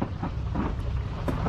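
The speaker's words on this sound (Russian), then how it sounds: "Дождя еще не хватало, черт." Steady rain hisses with a low rumble of thunder and gusty wind underneath in Minecraft, a dense, continuous stormy wash with no voices.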